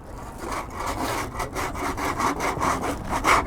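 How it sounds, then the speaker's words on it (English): A scraper taped to a painter's pole scraping old coating off a concrete wall, rhythmic rasping strokes repeating about every half second, close and fairly loud, with no talk. "So let's scrape this off."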